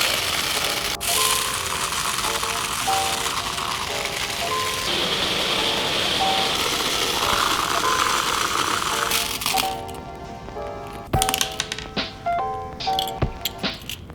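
Toy washing machine tumbling silver earrings with polishing shot, a continuous close rattle of small metal pieces clinking and shifting, with a motor whir underneath that drops away near the end into sparser clinks.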